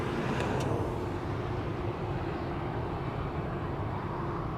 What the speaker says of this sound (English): This is KLM flight 1775 to Berlin, 737-800.